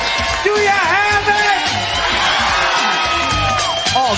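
Studio crowd of kids cheering and whooping on the Nickelodeon Guts set, loud and continuous, with shouts and yells rising over a host's amplified voice.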